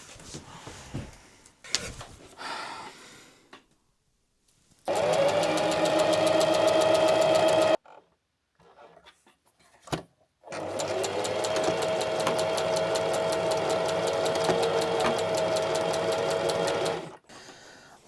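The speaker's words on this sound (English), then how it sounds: "I stitched the lining." Sewing machine stitching a fabric bag lining runs nearby in two bursts, a short run of about three seconds and then a longer steady whirring run of about seven seconds, separated by quiet handling noises.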